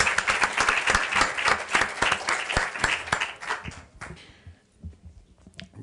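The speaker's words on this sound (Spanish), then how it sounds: "les pido por favor un fuerte aplauso para Laura y también para Alonso" Audience applause at a Lima university book presentation, steady dense clapping for about four seconds that thins out and fades, with a few scattered claps at the end.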